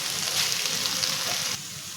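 Leafy vegetable greens roasting in a dry pan, giving a steady soft sizzle and crackle that drops a little in level near the end, close and continuous with no talk.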